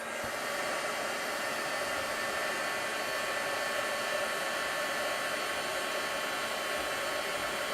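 A hair dryer blows air onto wet paint on a miniature vintage garage diorama, making a steady, loud, broadband whoosh that holds unchanged and close throughout with no voices.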